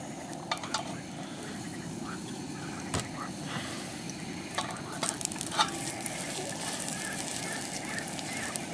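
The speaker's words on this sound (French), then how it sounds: "mes quarts de pomme dans la poêle. Il n'y a plus qu'à les faire dorer, les faire cuire." Apple quarters go into melted butter in a hot pan, setting off a soft, fairly faint sizzle broken by scattered clinks and taps of a utensil against the pan.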